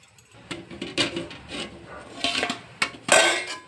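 A metal lid set down on a cooking pot of rice rava and moong dal upma, with several clattering knocks and scrapes up close, ending in a louder clank.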